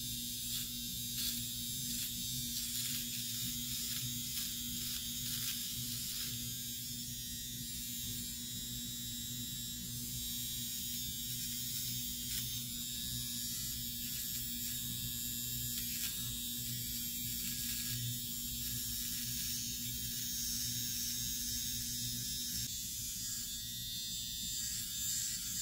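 Flawless electric eyebrow trimmer buzzing steadily as it removes eyebrow hair, a close, continuous motor hum with slight texture changes throughout, no talking.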